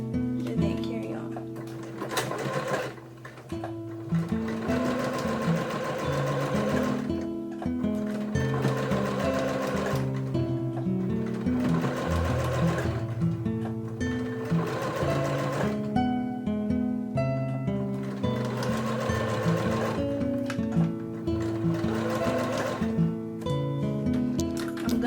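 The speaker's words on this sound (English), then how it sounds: "Make sure you back stitch and then carry on." A sewing machine runs in continuous bursts while stitching a bandeau bralette, a steady rapid whirring hum that pauses briefly for back stitching and then carries on, loud and close throughout.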